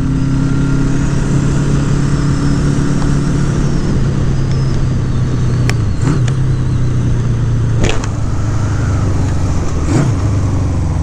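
A 1974 Honda CB550 Four inline-four motorcycle cruising at highway speed, its steady engine drone and wind roar filling the ride, with a few brief passing whooshes from other vehicles.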